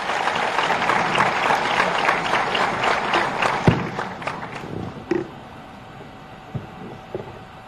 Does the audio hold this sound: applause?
yes